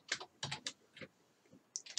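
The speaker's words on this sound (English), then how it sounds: "Just typing it out." Bursts of typing on a computer keyboard, clusters of quick clacking keystrokes separated by short pauses, close and clear with no talking.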